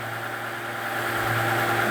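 A Mercedes CL65 AMG twin-turbo V12 runs in a garage, a steady, moderately loud mechanical drone with a faint rise in intensity partway through and no talking.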